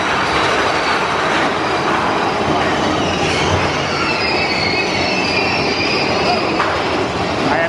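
Passengers ride a train rolling along the track on an amusement ride, with a steady loud broadband rumble of wheels and faint high squeals throughout, no talk.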